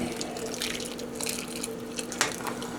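Water runs and trickles while a container is rinsed out during pork roast preparation, making a steady faint splashing with a light drip and a small clunk near the end, close and fairly quiet.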